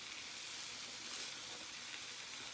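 A grilled cheese sandwich on sourdough sizzles in a pan, a soft, steady crackling hiss heard close up and alone, fairly quiet throughout.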